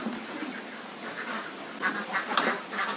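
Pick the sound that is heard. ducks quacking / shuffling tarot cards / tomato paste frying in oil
ducks quacking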